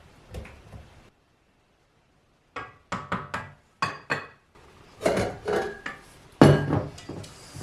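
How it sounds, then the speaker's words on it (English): Spatula scraping a stand mixer bowl and paddle full of gluten-free vanilla cupcake batter, heard as a run of short, close knocks and scrapes with a quiet pause in between. "I'm going to scrape the bowl. I'm actually going to scrape off the paddle first."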